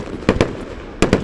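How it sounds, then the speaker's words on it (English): Outdoor fireworks explode in two pairs of sharp, loud bangs, with a short gap between the pairs. "Free fireworks show."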